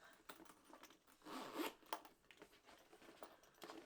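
A Louis Vuitton Alma BB handbag is unzipped, a close, quiet zipper rasp in several short pulls with small rustles of handling around it.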